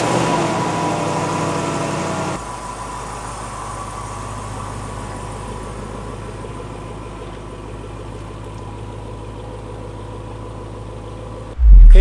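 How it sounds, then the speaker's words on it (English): A car engine idles steadily at a low, even rumble for several seconds as the car pulls into a garage, then a sudden loud thump or clunk at the very end. "all that's left to do is pull the car back in the garage"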